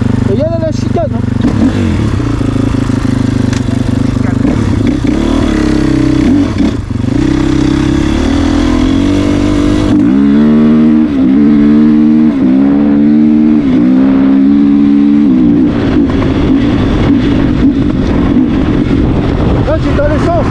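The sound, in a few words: 450 motocross motorcycle engine revving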